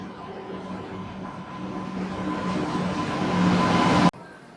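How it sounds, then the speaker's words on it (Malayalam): A train pulling into a station platform, with a steady low rumble and rising rail noise that swell toward the end before cutting off abruptly; no one speaks. "അതാ മോനെ വരുന്നത് നമ്മുടെ ട്രെയിന്"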